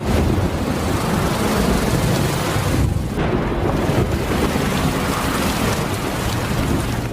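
A thunderstorm with heavy, steady rain pouring down and rumbling thunder, loud and continuous throughout with no letup.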